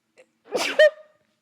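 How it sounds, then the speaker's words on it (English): A single sharp sneeze, close and loud, preceded by a quick inhale and ending in a brief voiced tail. "ooh, I have to sneeze."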